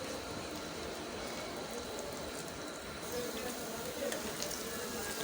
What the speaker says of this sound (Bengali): তো এগুলো আমি আগে ভালো করে ভেজে নেব।